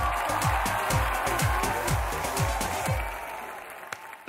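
Applause from a TV talent show audience plays under a rhythmic music beat with pulsing bass thumps, the clapping and music fading out toward the end.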